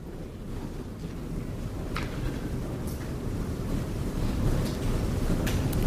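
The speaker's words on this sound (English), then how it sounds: "Those are extremely big waves, and he is literally metres from a breakwater." Big ocean waves roll and surge a few metres from a breakwater, a continuous broad roar mixed with wind buffeting the microphone, with occasional brief splashes standing out.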